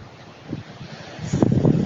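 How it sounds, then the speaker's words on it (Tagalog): Strong typhoon wind in Manila during Typhoon Yolanda, a steady rushing roar close to the microphone that builds into louder gusts toward the end, with no voices over it. "sky's getting clearer, but it's windy, as you can see, or rather as you can hear"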